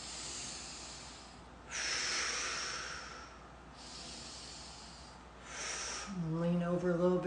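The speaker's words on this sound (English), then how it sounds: "I'm going to breathe in my nose" Three slow, airy inhalations through the nose during a stress relief exercise, close and soft, each a breathy hiss of a second or two separated by quiet pauses, followed by a low voiced sound at the end.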